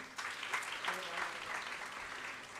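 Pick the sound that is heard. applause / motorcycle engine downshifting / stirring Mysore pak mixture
applause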